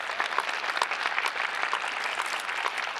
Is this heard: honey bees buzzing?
no